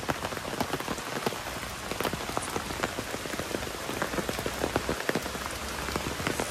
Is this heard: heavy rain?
yes